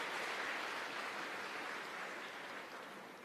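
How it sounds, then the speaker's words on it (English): An audience at a spiritual talk claps together in a dense, even patter of applause that holds steady and then slowly fades, heard from a distance with no voices over it. "Why are you clapping?"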